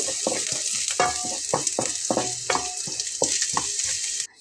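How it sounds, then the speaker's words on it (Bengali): Whole cumin seeds fry in hot oil while being stirred, with a bright sizzle under a quick rhythmic series of sharp spatula scrapes and taps against the pan, close and loud, ending suddenly. "হাফ চা চামচ পরিমাণ গোটা জিরা দিয়ে নিলাম দিয়ে খুব ভালোভাবে নেড়ে চেড়ে নিতে হবে আমি একদম লাল করে ভেজে নেব"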